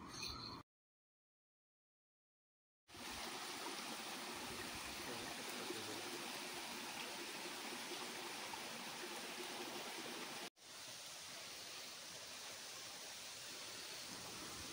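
A waterfall and stream at Chaulabhaja Waterfall near Baripada rush and gurgle in a steady broadband wash, loud and continuous apart from a few seconds of silence near the start and a brief cut later.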